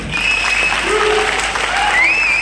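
An audience claps at a network marketing programme in Vijayawada: sustained, dense applause filling the hall, with a few faint tonal sounds running through it.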